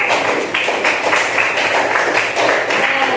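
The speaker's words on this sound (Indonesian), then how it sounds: "Sekali lagi tepuk tangan buat kamu." A classroom of students applauds a group presentation, a dense, steady clapping that stays loud and close for the whole stretch with no talk over it.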